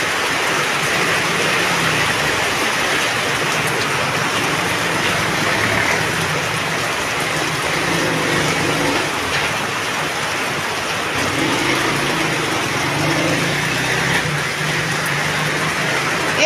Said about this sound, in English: It's raining, like it's raining heavily.